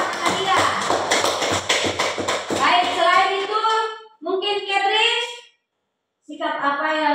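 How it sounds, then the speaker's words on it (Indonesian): A classroom of children claps for a classmate's answer, several seconds of brisk, scattered hand claps up close, followed by a teacher's voice speaking. "Tepuk tangan untuk jawaban Natalia."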